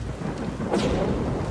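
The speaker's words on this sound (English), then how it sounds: "Oh, here's our first rain." Rain and a rolling thunder rumble in the survival video game Soulmask, a steady broadband downpour with a louder thunder swell partway through, heard alone.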